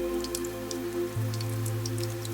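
Light rain ticking against a car windshield during a slow night drive through empty streets, sparse drops over a constant low engine drone that shifts slightly midway.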